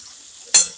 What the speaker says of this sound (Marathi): चांगलं तळून घेऊ तेलामध्ये